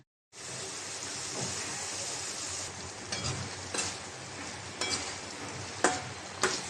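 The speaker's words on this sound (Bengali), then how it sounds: "সাথে আলু দিয়ে কষাই নেব" Potatoes with turmeric and salt sauté in a pan for a Bengali fish curry, giving a continuous broadband sizzle with occasional stirring scrapes and clinks, close and steady with no talk.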